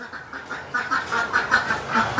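Several ducks quack repeatedly in a quick, uneven series of nasal calls, moderately close and clear, with no talking over them.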